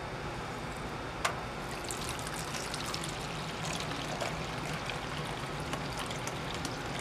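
Liquid pours slowly and gently through a filter during gold recovery from cable pins, a soft continuous trickle and stream of fluid heard up close with faint splashes and no talk.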